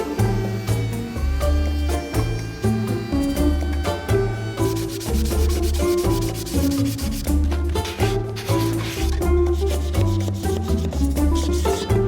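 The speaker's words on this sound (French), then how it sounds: "je vais commencer par poncer. Enlever la colle et poncer." Sandpaper rubs over a wooden bench to strip old glue, making repeated back-and-forth scratching strokes in a steady rhythm. Background music seems to play underneath.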